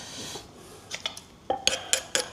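Plates being handled in a kitchen during preparation of pla ra fish dip with sticky rice: a few soft knocks, then several sharp ceramic clinks in quick succession, close and clear with no talk.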